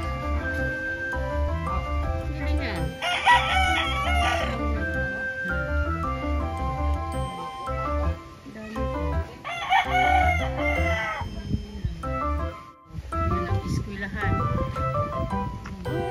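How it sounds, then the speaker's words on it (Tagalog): A rooster crows on a farm over a busy mix of background music and voices, its call rising clearly twice amid the steady clutter. "Uy, meron pa pala manok dito."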